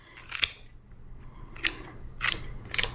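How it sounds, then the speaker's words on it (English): Clean clippers snip flower stems about half an inch from the ends while an arrangement is prepared for a vase, giving four sharp, close cuts spaced roughly a second apart with quiet pauses between. "give the stems about a ½ inch trim"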